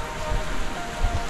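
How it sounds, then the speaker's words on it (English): Heavy rain from a tropical squall at a remote Palawan camp, a steady dense hiss of drops without any voices. "raining quite a bit now"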